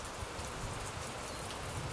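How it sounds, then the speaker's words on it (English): Rain falling outdoors at an RC model plane flying session, a steady, even hiss of drops with no break, heard alone without talk. "It's raining right now."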